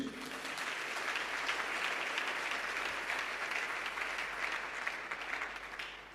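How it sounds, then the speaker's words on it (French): A church congregation applauding in worship: dense, continuous clapping from many hands that holds steady and fills the room throughout. "Acclame Jésus"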